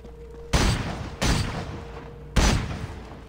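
Ranged shots fired in the game Pascal's Wager, three loud, sharp blasts spaced about a second apart, each with a short rumbling decay, heard alone over a low hum.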